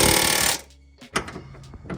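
A power tool rattles in one loud, harsh burst while tightening the shock absorber nuts on a C6 Corvette, then drops to quieter workshop clatter and small knocks.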